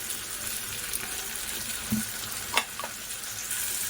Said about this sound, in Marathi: तर आता या टॅमॅटोला पण थोडंसं आपण फ्राय करून घेऊया